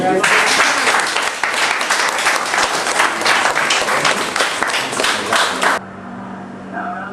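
A church congregation at a prophet's deliverance service claps loudly and continuously for several seconds, then the applause cuts off abruptly, leaving a low steady hum.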